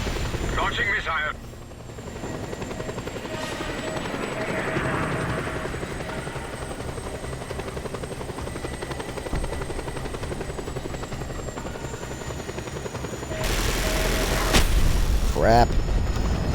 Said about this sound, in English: Why do these choppers die in one hit from a missile from the SAM sites